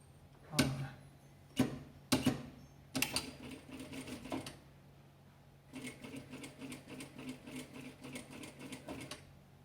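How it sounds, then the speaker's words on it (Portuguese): A sewing machine stitches an ironed fabric strip for a patchwork Christmas tablecloth, running in short bursts at first and then in a longer, steady mechanical whir close by, with no talking. "Eu vou vir na máquina agora, vou colocar aqui, ó, um pé de máquina de fora a fora."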